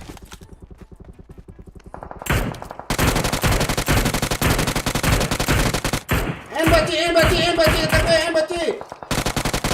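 Rapid bursts of gunfire ring out in the PUBG battle royale game, with repeated shots, a sustained automatic volley and a tonal effect, as a player speaks briefly over the action.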